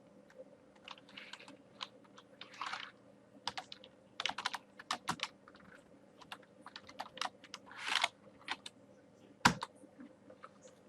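Computer keyboard typing a search query into Google, quick irregular bursts of key clicks at close range in a quiet room, no talking.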